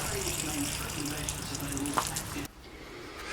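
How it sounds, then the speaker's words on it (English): Water runs steadily from the external drain tap of a motorhome waste tank, a continuous splashing flow that cuts off abruptly near the end, leaving quieter background. "All waste tanks have an external drain tap which need to be emptied."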